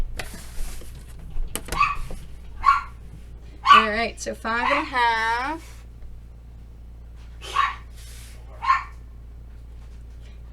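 Several dogs bark excitedly as a man comes home: a few sharp, separate barks spread across the stretch, fairly close, mixed in with someone talking.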